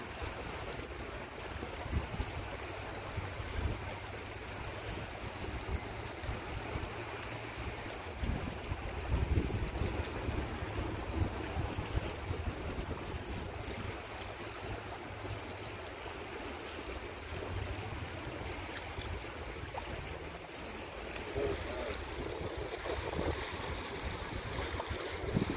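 Strong wind at the sea during a fishing trip buffets the microphone in a loud continuous rush, with waves and boat noise underneath and occasional heavier gusts.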